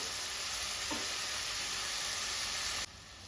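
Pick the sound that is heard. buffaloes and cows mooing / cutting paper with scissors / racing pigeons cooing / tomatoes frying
tomatoes frying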